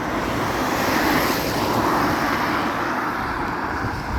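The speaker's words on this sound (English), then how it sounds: "a lot of traffic getting in and out of Galway" Heavy road traffic in Galway, a steady loud roar of passing vehicles close by, continuous with no breaks and no talking.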